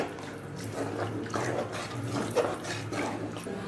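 Water is poured into a pan of simmering prawn masala for a Tamil-style prawn gravy, a short close splashing pour of uneven liquid bursts lasting a few seconds.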